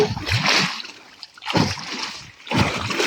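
Shingi fish thrash and splash in a biofloc tank as they are scooped out, three bursts of water churning separated by brief quieter gaps, close by.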